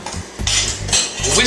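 A whisk beats cookie batter made with eggs and vanilla in a bowl, giving loud, close metallic clattering in quick bursts with brief pauses between strokes, no talking.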